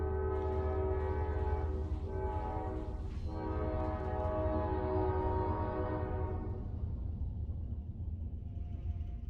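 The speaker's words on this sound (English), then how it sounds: "So there was a train" A train passes in a Samurai Warriors cutscene, sounding a long loud horn over a heavy rolling rumble, the horn cutting off after several seconds as the rumble carries on alone.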